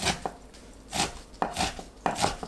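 A knife chops through soaked, squeezed mugwort on a cutting board in four distinct strokes, each a brief crisp thud, spaced irregularly with no talking.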